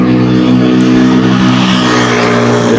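A loud car engine roars steadily close by, its revving drone holding throughout with no speech.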